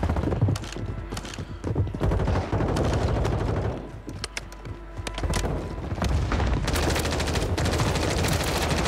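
MCW SMG submachine gun fire in Call of Duty on Rebirth Island, with rapid automatic bursts repeating over several seconds, mixed with more distant gunfire, thuds and mechanical clatter.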